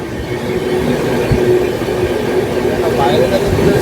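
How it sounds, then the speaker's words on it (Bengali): The Nadiyana Express rolls along at speed, a steady close rumble with rhythmic wheel clatter filling the carriage, and a voice speaks faintly over it. "আমাদের ট্রেন ভালোই যাচ্ছে"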